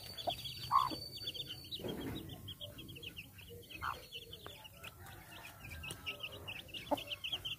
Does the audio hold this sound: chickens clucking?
yes